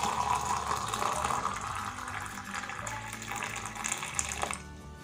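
Hot water poured from above over a Herbalife Afresh mix in a cup, a steady close-up splashing, trickling pour that runs for several seconds before stopping abruptly near the end, with no voices.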